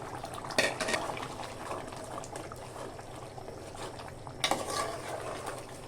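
Prawns and pointed gourd are stirred in a cooking pot, with a metal spoon scraping and clinking against the pot over a soft simmering bubble, close and moderate with two sharper clatters and no talking.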